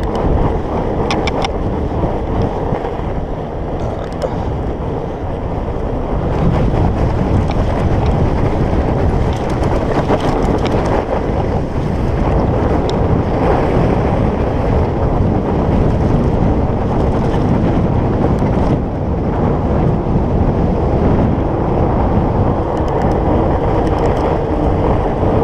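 A strong headwind roars across the microphone during a fat bike ride in the countryside, a loud continuous low buffeting that surges and churns for the whole stretch. No speech.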